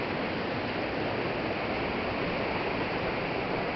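Water rushes loudly and continuously at the intake of the Meléndez River, a dense, even roar of a fast-flowing river channel heard up close.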